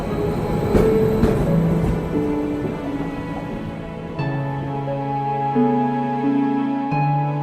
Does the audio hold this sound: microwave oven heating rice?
no